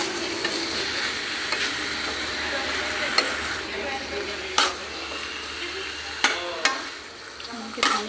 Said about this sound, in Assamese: এতিয়া মই মাংসৰ পিচখিনি ইয়াতে দি দিম, দি ভালকৈ ভাজিম ৰঙচুৱা হোৱালৈকে